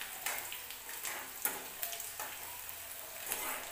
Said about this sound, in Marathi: कांदा छान भाजू द्यायचा आहे आपल्याला